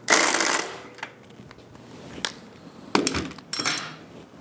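A socket wrench tightening a nut while fitting a street motorcycle exhaust, a few short metallic ratcheting and clicking bursts, close and sharp with brief gaps between them.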